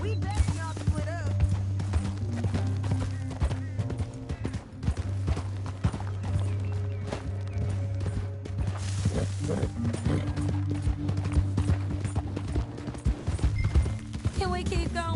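Horse hooves clip-clop steadily in Red Dead Redemption 2, a fast, rhythmic pounding of galloping horses that runs throughout under a constant low hum and occasional game sounds.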